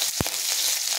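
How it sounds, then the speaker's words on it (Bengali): Green chillies frying in hot oil for a fish curry, giving a steady close hiss with one brief louder clatter near the start, no voices. "কাঁচা লঙ্কাটাও ভাজা হয়ে গেছে"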